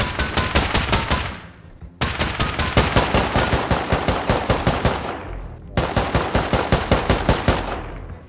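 Rapid automatic gunfire in the survival video game Rust, loud sustained bursts of rattling shots with two brief pauses between volleys, no talking.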